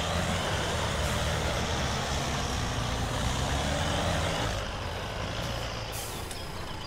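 XPen 8x8 truck in SpinTires, a steady heavy engine drone with low rumbling throughout, loud and continuous, easing slightly in the last couple of seconds.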